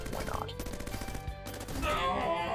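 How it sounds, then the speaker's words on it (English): Rapid machine gun fire in Bionic Dues, a quick rattling stream of shots close up with game music layered underneath and a brighter effect near the end. "you I'm just gonna kill with a machine gun"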